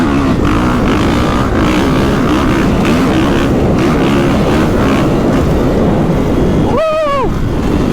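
A 2022 Kawasaki KX450SR dirt bike is ridden hard, its loud engine roaring continuously close by as it revs and pulls, with a brief rising whine near the end.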